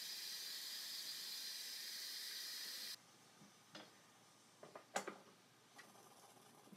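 Steam hissing loudly from an Instant Pot pressure cooker for about three seconds, then cutting off, followed by quiet clicks and clunks of the lid and valve close by.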